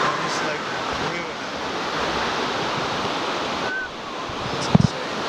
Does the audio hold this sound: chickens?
no